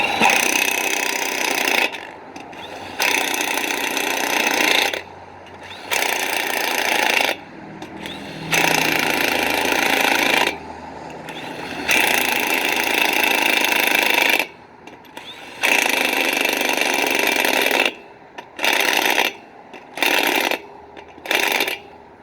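Impact wrench tightening lug nuts on a 2019 Lincoln Navigator wheel, with repeated loud hammering bursts of a few seconds each, separated by short silences, close up and alone.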